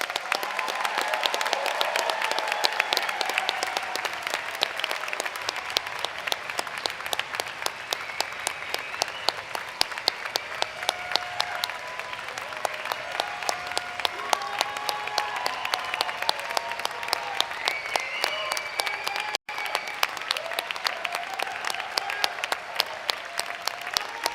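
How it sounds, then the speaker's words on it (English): Sustained audience applause at a university public health winter commencement ceremony, a dense steady clatter of many hands from a large seated crowd lasting throughout with no talking over it. "Let's give our graduates one more big round of applause"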